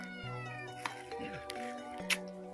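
A cat meows beneath a table indoors, several clear meows close by over a steady electronic hum and tonal background noise, with faint voices nearby.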